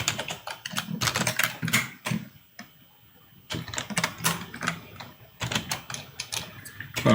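Computer keyboard typing in rapid, uneven bursts of close keystrokes, pausing briefly in the middle before resuming at the same brisk pace.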